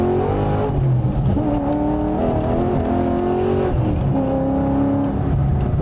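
A Nissan Skyline GT-R with a UniClutch quad-plate clutch revs loudly from inside the car, its engine note climbing and dropping through blips and gear changes, with no one speaking.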